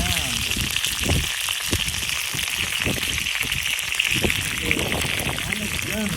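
Armadillo eggs frying on a rocket stove make a constant bubbling sizzle close by, running under a person talking throughout.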